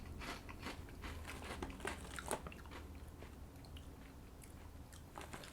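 Sesame oil flavored potato chips crunched and chewed close to the mouth, with quiet irregular bites and crackles at low volume and no talking.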